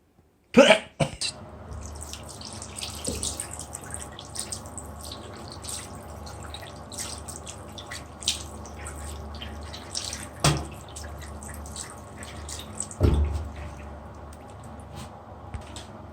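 A tap runs and drips into a sink while someone rinses their tongue after tasting Vietnamese cobra liquor, with soft irregular trickling, a sharp clatter at the start and a few louder splashes or coughs later.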